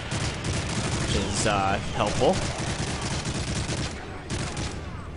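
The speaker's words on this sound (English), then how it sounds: "I'm shooting in the general direction of muzzle flash." Gunfire in the Call of Duty Modern Warfare 3 campaign mission Granite No More, a dense, continuous rattle of shots with a few distinct cracks, under brief talk.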